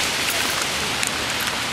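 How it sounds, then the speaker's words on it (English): Steady rain from Hurricane Irene falling, a dense even hiss with occasional sharper drops, close and continuous. "Actually it's not even raining. Oh, it is raining."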